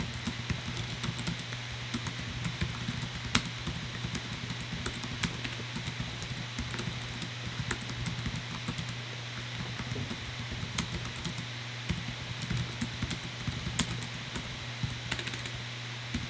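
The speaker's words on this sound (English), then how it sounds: "Let me show you guys a keyboard typing demo." Typing on the keyboard of an Asus Zephyrus G14 gaming laptop, a steady stream of light, rapid key clicks under a constant low hum, close and fairly quiet, with no talking.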